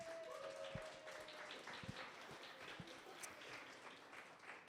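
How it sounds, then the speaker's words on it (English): Applause for a Girl Scouts robotics team at an innovation hub STEM event, a steady crowd clapping throughout at moderate distance, with a brief tone and a few sharper claps standing out. "Let's give them a round of applause."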